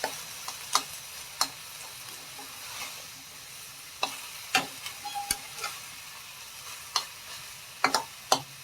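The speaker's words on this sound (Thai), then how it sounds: "ผมคิดว่าเดี๋ยวผัดให้แห้งๆหน่อยน่าจะดีกว่า" Pork with egg and mayom leaves stir-fried in a pan, a constant low sizzle punctuated by sharp, scattered clinks and scrapes of a spatula against the pan, close by.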